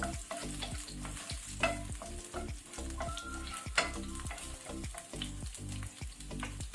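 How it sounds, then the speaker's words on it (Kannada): Finely chopped garlic fries on a low flame for a shrimp and chestnut mushroom stir fry, a soft steady sizzle under a quick, regular tapping and scraping of a spatula against the pan, with no talking. "ಸಣ್ಣ ಕಟ್ ಮಾಡಿ ಲೈಟ್ ಕೆಂಪಾಗೋ ತನಕ ಈಗ ಲೋ ಫ್ಲೇಮಲ್ಲಿ ಇದನ್ನು ಫ್ರೈ ಮಾಡ್ಕೊಳ್ಳುವ ಬೆಳ್ಳುಳ್ಳಿಯನ್ನು"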